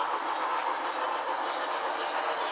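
HO scale model train running on layout track, a steady continuous rolling hiss with faint rail clatter, moderately loud and unbroken, with no voices.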